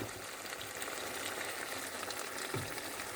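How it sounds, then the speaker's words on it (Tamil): Potatoes fry in hot oil as a soft, continuous bubbling sizzle, even and moderately quiet throughout, with no voices. "இந்த எண்ணெயிலே இந்த உருளைக்கிழங்கு அவிந்து வரும்"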